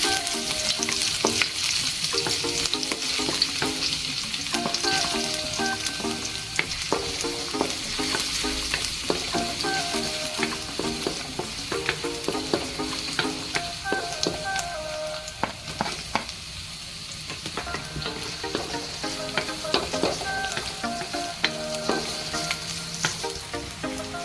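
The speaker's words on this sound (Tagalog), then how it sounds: "Tapos magigisa tayo ng luya, bawang, and sibuyas." Ginger, garlic and onion sauté in hot oil in a pan, a loud, continuous sizzle with frequent scraping stirs and small clinks running throughout, no talking.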